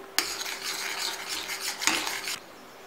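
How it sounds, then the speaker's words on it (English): A milk and corn flour mixture being stirred continuously in a pan as it thickens, with a soft, steady scraping rasp and two sharper scrapes, close and fairly quiet. "just keep on stirring continuously until the milk thickens"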